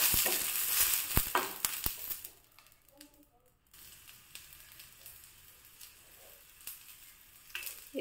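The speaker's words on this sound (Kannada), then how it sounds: "ಈಗ 4-5 ಕಾಯಿ ಮೆಣಸು, ಇದನ್ನು ಸ್ವಲ್ಪ ಫ್ರೈ ಮಾಡ್ತಿದ್ದೇನೆ." Green chillies fry in hot oil with a soft, steady sizzle and some stirring scrapes, fairly faint, with a louder crackle near the start and a brief quieter gap midway.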